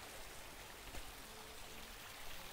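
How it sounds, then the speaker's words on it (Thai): Water pours steadily down an artificial waterfall, a constant broadband rushing wash with no pauses, fairly close and even in level throughout. "ดูสิคะเหมือนน้ำตกจริงๆเลย"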